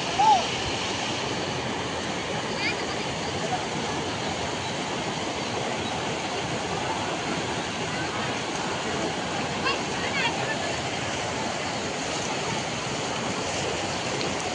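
Floodwater pours fast across Ratanpur Road in a severe 2025 Hailakandi flood, a steady, loud broadband roar of rushing water that holds level throughout with no pauses.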